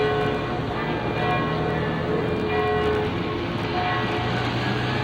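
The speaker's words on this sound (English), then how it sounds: "There's more than one bell going." Several church bells ring together in an old town near Carcassonne, France, producing a dense, steady, loud wash of overlapping tones that continues throughout without pause.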